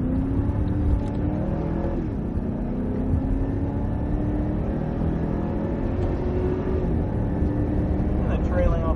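A Cadillac V-Series car engine on a race track pulls under steady throttle, a continuous mid-level drone with rising pitch sweeps as it accelerates out of a corner, heard beneath someone talking.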